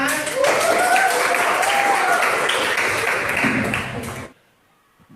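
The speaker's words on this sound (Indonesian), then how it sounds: "Boleh tepuk tangan." Students clapping their hands in a classroom, brisk steady clapping with voices over it that stops abruptly near the end, leaving near silence.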